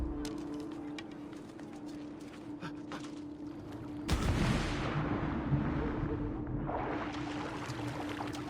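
Gunfire in Assassin's Creed 2 on PS5: a sharp, loud broadband blast erupts midway and leaves a lingering rumbling wash over a steady ambient hum, with scattered faint ticks before it.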